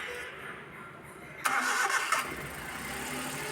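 Suzuki minivan D63 engine with a cylinder 2 misfire and valve clearance problem cranks briefly and catches, then settles into a steady close idle.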